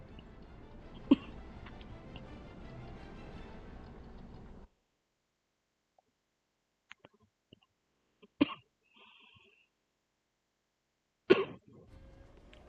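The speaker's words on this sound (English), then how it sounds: "if you hear a cough, it's that" Several short, isolated dry coughs from a person with asthma, sharp bursts spaced apart in a quiet room after a stretch of steady game background sound.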